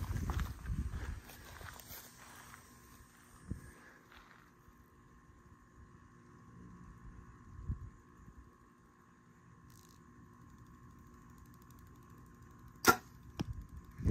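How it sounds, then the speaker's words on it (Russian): An arrow shot from a light bow on a Texas hog hunt, passing the listener at about 30 metres, with a sharp brief whoosh near the end after quiet outdoor ambience and a few footstep-like thumps. "слушать, как звук приближающейся стрелы"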